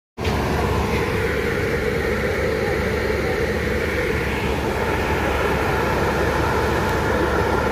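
The Kolkata Sairang Express pulls into Azimganj station behind a WP7 locomotive, a loud, close, continuous rumble and roar of the train that fills the whole stretch with no talking.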